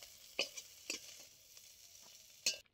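Shrimp frying lightly in a kadai for lau chingri. The sizzle is soft and faint, and several sharp scrapes of a spatula stirring it stand out above the sizzle.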